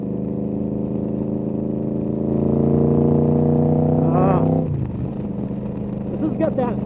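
A Yamaha RoyalStar 1300 V4 motorcycle that was dumping too much fuel cruises at highway speed, its steady engine drone holding a constant pitch, then easing down toward the end; a voice talks over it.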